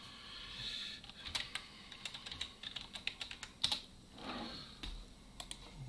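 Quiet, close keystrokes clatter irregularly on a computer keyboard while logging back in to Microsoft Teams, a brisk run of taps with a short lull near the middle.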